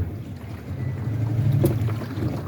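A boat pushes through the narrow wild channels of the Danube Delta, a low steady engine drone with water and wind rushing around it, close and continuous, with no voices.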